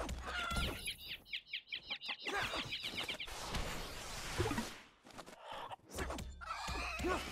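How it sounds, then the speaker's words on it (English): Chickens cluck and squawk rapidly in My Time at Sandrock during a combat encounter, in a loud, busy burst of repeated clucks with flapping and game effects around them. "You crazy chicken."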